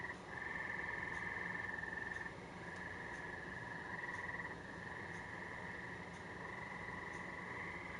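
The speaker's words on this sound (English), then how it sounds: "Those freaking frogs, I tell you what, jeez." Frogs croak outdoors in a dense, continuous chorus, their overlapping calls forming a steady rhythmic drone that stays loud and unbroken throughout.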